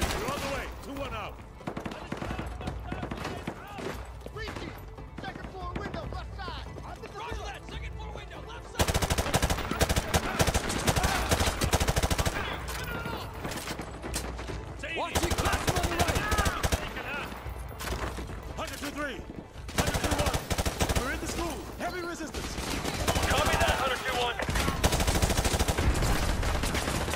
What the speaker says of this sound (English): We are taking heavy fire from the school.